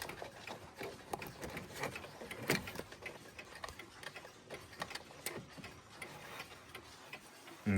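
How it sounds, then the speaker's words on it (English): An alarm clock ticks steadily and softly on its own, a continuous run of light mechanical ticks with a few louder clicks and no talk over it. "We got this alarm clock right here."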